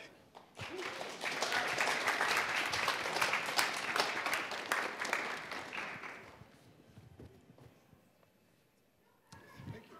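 Audience applause welcoming two speakers at an evening space-history event at the InfoAge Science History Learning Center and Museum in New Jersey: a dense, steady burst of clapping for about six seconds that thins out and fades into room quiet.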